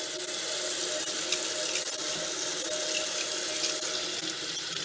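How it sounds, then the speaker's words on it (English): Kitchen tap water runs steadily into a sink as a potato is rinsed after peeling, a close, even splashing stream with no talk. "And I'm running it under the water and it's gone."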